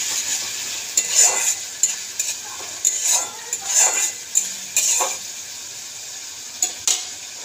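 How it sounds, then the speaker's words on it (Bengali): Onion with two spoons of ginger-garlic paste fries in a pan under a steady bright sizzle, broken by repeated spatula scrapes and stirring knocks in an irregular rhythm. "এবার আদা রসুনের পেস্ট তো 2 চামচ দিলাম। একটু জাস্ট ভাজা ভাজা হয়ে যায়।"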